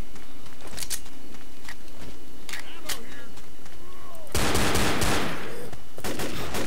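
Rapid bursts of gunfire aimed at zombies in Left 4 Dead, from several players firing together; a dense, loud volley dominates the second half, with sporadic shots and background game noise earlier.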